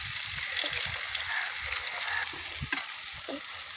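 Vegetables and an egg fry in a pan for a pasta dish, giving a steady close sizzle and crackle with a few soft stirring scrapes throughout.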